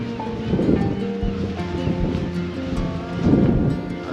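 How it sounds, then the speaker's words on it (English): Steady wind buffeting the microphone on the beach at De Panne, Belgium, with low rumbling gusts, mixed with a faint wash like surf in the background. "Too windy."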